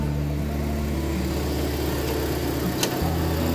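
A 2008 Toyota Yaris engine idles steadily at close range with an even, low hum. The sound continues without revving and no voices are heard over it.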